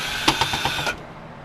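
Screws being backed out of a satellite dish receiver being scrapped, a quick close burst of several small ratcheting clicks lasting under a second, then quiet.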